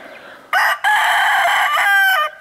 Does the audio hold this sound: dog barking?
no